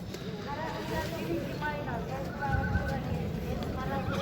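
Horses at a busy livestock horse market in Özgön, Kyrgyzstan, with whinnies and hoof clops rising over a steady crowd babble of people talking nearby.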